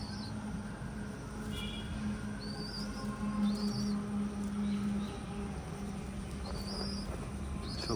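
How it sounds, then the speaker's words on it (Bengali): Pigeons gathered at a feeding spot give low, soft cooing in a drawn-out murmur, with brief high chirps from small birds scattered over a steady outdoor background. "সব পায়রা চলে এসছে"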